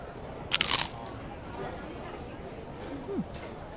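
A single short, crisp crunch of someone biting into wheel-shaped rice crisp snack chips at an outdoor theme park, with a faint murmur of background voices.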